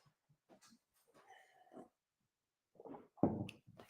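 A small dog barking indoors, a few short, faint yips and whimpering vocalizations followed by a couple of louder, sharper barks near the end, with no talking.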